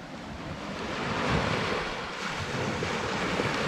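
Ocean waves breaking on a beach at Panama City Beach, a continuous hissing wash of surf that swells and recedes, mixed with wind noise on the microphone, with no voices.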